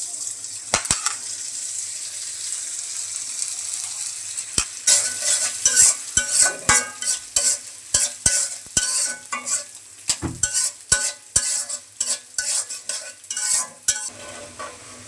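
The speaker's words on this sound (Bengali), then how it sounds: "এখন চালটা ভেজে নেব।" Rice is fried and stirred in a pan of oil, giving a soft continuous sizzle broken by frequent sharp scrapes and clacks of the spatula, which grow busier and more rhythmic toward the end.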